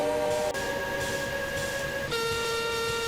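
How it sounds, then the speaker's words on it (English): Engines whistle together by an old iron bridge: sustained, steady overlapping whistle tones that shift pitch partway through, loud and continuous with no talking. "The engines all whistled in delight."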